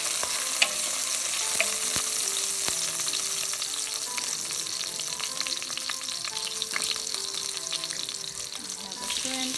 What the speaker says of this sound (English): Now we're cooking our shrimp and the rest of the vegetables.